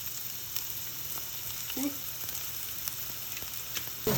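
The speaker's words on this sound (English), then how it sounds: "And I'm gonna put the onions in there." Chopped onions fry in extra virgin olive oil in a pan, giving a steady soft sizzle with faint crackles and a few light clicks; a voice speaks briefly once.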